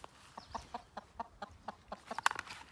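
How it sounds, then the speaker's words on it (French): A hen clucks as it comes out of its coop, giving a quick run of short, nearby clucks about every fifth of a second that grow louder and denser toward the end. "Voilà la poule qui sort."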